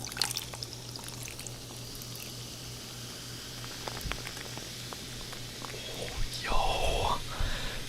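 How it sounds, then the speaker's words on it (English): Blue raspberry drink poured into a cup, a soft trickling splash building to a brief fuller gush near the end, faint and close, over a low steady hum. "We're gonna pour it in the cup now."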